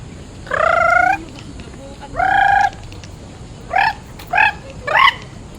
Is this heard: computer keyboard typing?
no